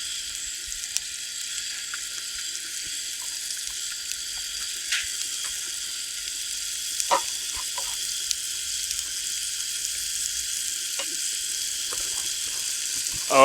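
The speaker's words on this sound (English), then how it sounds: "We have the asparagus, we have the fish cooking." Fish and asparagus frying in butter in a pan during an outdoor catch-and-cook at an ice-fishing trip on Spray Lakes, giving a steady soft sizzle with occasional light clicks and pops throughout.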